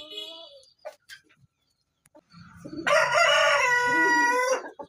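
An adult Brahma rooster crows once, loud and near, a long drawn-out call after a few short clucks and brief quiet.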